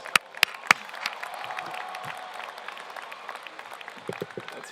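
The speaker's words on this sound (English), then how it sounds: "Can you guys give yourselves a round of applause" Audience applause and cheering at an evening gathering with faculty, staff, alumni and families, opening with a few sharp claps, then a moderate, steady crowd wash that swells slightly near the end.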